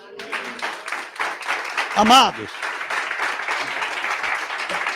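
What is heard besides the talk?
congregation applauding in church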